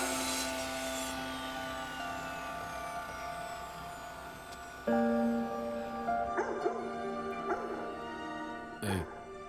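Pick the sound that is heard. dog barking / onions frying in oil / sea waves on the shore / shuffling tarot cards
dog barking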